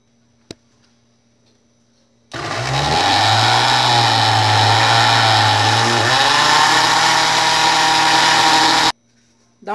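A kitchen blender whirs loudly for several seconds as it mixes brigadeirão batter with eggs, starting abruptly, pitch rising slightly as the mix thins, then cutting off sharply into quiet.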